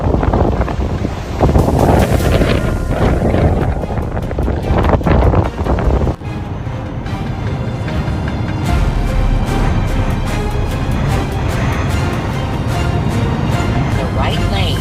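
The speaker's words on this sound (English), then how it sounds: "Dark clouds poured over downtown Milwaukee like a waterfall in the sky as scattered" Storm wind blowing over downtown Milwaukee during scattered storms, a loud continuous roar and buffeting gusts battering the microphone for the whole stretch, with a sharp shift in texture midway.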